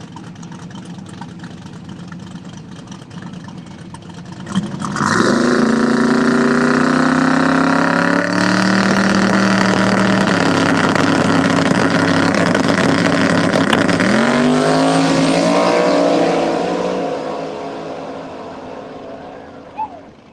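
Drag race cars, a Ford Fox body and a Nova, launch at a No Brainer Limited 275 shootout; a loud engine roar rises sharply and holds steady for about ten seconds, with a gear change, then fades as the cars pull away.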